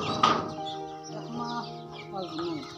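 Local chickens raised from machine-hatched chicks cluck nearby on a small organic poultry farm, with a sharp squawk near the start and soft murmured clucks following, with quiet talk in the background.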